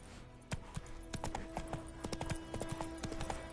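Roach, the horse in The Witcher 3, gallops in a quick run of sharp, uneven hoofbeats that sit close and clear over a soft ambient bed, with no voices.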